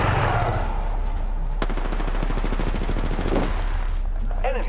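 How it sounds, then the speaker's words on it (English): Weapons fire in the video game Apex Legends comes as rapid automatic bursts and sharp shots, loud and close, layered over game sound effects with no one talking. "Opening fire on the enemy. I am taking fire, friends."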